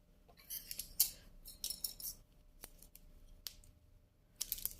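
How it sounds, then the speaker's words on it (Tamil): Scissors snipping plastic basket-weaving wire: several crisp, close metallic snips and clicks in irregular succession, fairly quiet against a low room hush, with no talk. "இப்போது சைடில் இருக்க ஒயரை வச்சு அளந்து கட் பண்ணி விட போகிறேன்."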